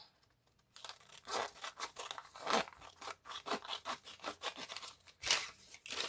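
Paper being cut by hand for a homemade junk journal, with repeated close, crisp snipping and tearing strokes in an uneven rhythm after a brief quiet start, with no talking.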